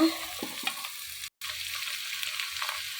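Chopped beetroot goes into onions frying in oil, followed by a soft, fairly quiet sizzle with a few light scrapes and a brief dropout of sound partway through.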